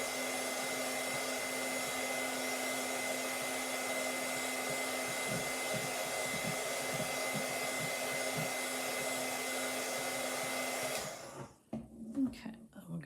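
Hair dryer blowing on a watercolour painting, a loud continuous close whooshing hum for about eleven seconds before it cuts off into quiet room sound with faint voice.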